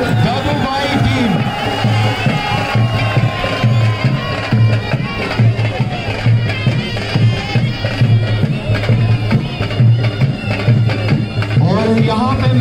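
A crowd at the Hunza Sports Gala opening ceremony for a tug-of-war match in Aliabad applauds and cheers as the Aliabad Dadu Bhai team enters the ground. The loud, continuous crowd noise runs under someone speaking over a public address.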